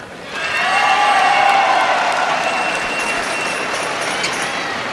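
A crowd applauds steadily for about five seconds as the number 4 seed men's doubles badminton players are introduced at a semi-final, the clapping swelling quickly and then holding at an even, dense level.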